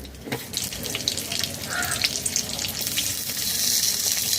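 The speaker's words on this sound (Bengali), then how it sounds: "কড়াইতে ভাজা তেল রয়েছে গোটা জিরা দিয়ে দেব দুটি কাঁচা লঙ্কা কেটে দিলাম" Whole cumin and cut green chillies hit hot oil in a wok, producing a close crackling sizzle that builds into a steadier, louder hiss over a few seconds.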